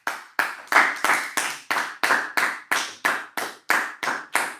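A church congregation claps in slow unison at a prayer service, about a dozen sharp, evenly paced claps with a short ring after each one.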